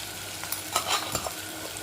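Potatoes sautéing with turmeric in a pan, a soft continuous sizzle broken by a few quick scraping stirs, close and fairly quiet, without speech.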